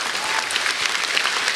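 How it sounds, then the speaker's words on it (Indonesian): Audience applause in a comedy stand-up venue, a dense steady burst of clapping from a crowd filling the room, loud and continuous without a break. "Tepuk tangan buat Kompas TV."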